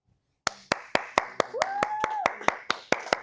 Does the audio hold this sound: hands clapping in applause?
yes